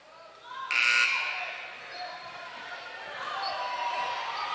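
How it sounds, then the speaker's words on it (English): A basketball game buzzer blares in one short, loud tonal burst over the echoing din of an indoor gym crowd. "Intermittent buzzer sounds."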